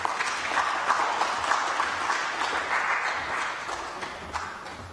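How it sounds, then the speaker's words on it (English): Audience applause after a keynote presentation at a memorial lecture, sustained even clapping from a sizeable crowd, moderately loud and slowly tapering toward the end. "Can we give another round of applause to the keynote presenter"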